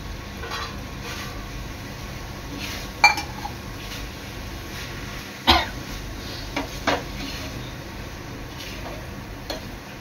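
Crab burji (chimbori) is stirred in a cooking pan over a faint background sizzle, with a few scattered scraping clinks of the spoon against the pan.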